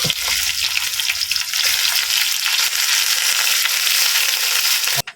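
Pork sautéing in a pan for a Filipino vegetable dish, a loud close crackling sizzle with sputtering pops and occasional stirring, continuous and free of talk until a brief knock at the end.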